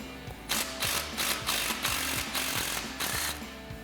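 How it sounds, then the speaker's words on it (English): An impact wrench with a 13mm socket rattles off the nut on a tie rod pinch bolt of a Ford F-250, giving a loud, close series of hammering bursts with short pauses between them. "we'll grab our 13mm socket on our impact and remove these"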